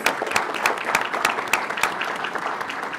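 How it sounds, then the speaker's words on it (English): A brief round of applause from an audience at a school board meeting, moderate clapping with sharp individual claps over a steady patter. "a round of applause"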